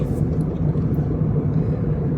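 A car engine runs steadily with a continuous low rumble while a new driver drives on a sunny day, the sound close and loud with no clear talk.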